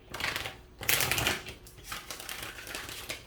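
Tarot cards are shuffled by hand in close, crisp bursts of riffling and papery slapping, with a few short pauses between the shuffles.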